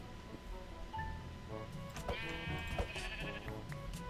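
Sheep bleating in a survival video game, several short bleats in sequence over faint background ambience, no talk.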